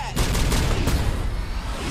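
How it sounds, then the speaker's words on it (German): Gunfire from a Fast & Furious 8 film trailer, a loud, dense burst of rapid shots and booms in an action scene, filling the whole moment with a voice faintly mixed in. "Wieso schießen die denn auf mich?"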